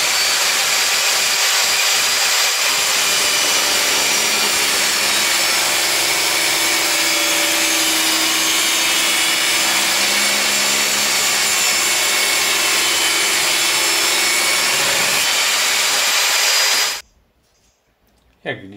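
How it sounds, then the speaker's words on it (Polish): A VEVOR 1800W table saw cuts through softwood, a loud steady high whine and rasping buzz sustained for many seconds before abruptly cutting off and leaving near silence. "Jak widzicie, miękkie drzewo bez problemu zostało przecięte, bardzo szybko, bardzo precyzyjnie."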